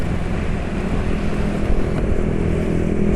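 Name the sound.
motorcycle engine running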